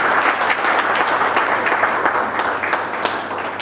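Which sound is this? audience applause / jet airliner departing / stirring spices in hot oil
audience applause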